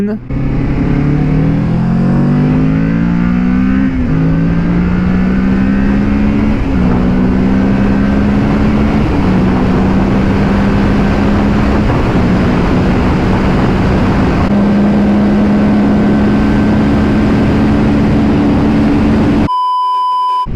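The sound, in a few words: Kawasaki Ninja 650 motorcycle accelerating at takeoff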